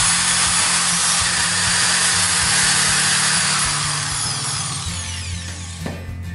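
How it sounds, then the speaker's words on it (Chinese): A corded electric drill runs continuously with its switch locked on, giving a loud, close, steady whine that slowly winds down toward the end, with no speech. "电钻也会一直运行"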